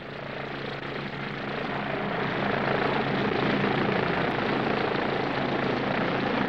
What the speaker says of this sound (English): Moresby carries a small helicopter, a scout to speed up the erection of radio equipment ashore and for transporting sailors to set up and man these crucial stations.